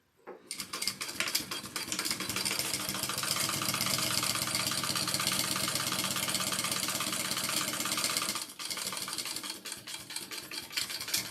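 A sewing machine stitches fabric, a fast, steady mechanical rattle that starts up, runs evenly for several seconds, pauses briefly, then resumes, close and without voices.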